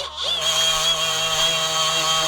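A Ryobi 18V cordless die grinder polishing cast iron, a steady high-pitched motor whine with a grinding hiss that spins up at the start and holds loud and constant.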